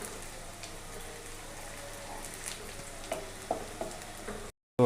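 Spices and onions sauté in a pot for beef yakhni pulao, making a faint, continuous sizzle with soft crackles and a few clinks of stirring near the end.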